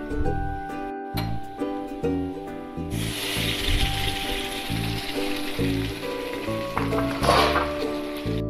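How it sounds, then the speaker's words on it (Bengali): A paste of vegetable peels goes into hot oil already tempered with nigella seeds, green chilli and garlic, a sustained frying hiss swelling after a few seconds, mixed with stirring and scraping in the pan and a background musical tone. "রসুনটা ভাজা ভাজা হয়ে গেলে পেস্টটা দিয়ে দেব।"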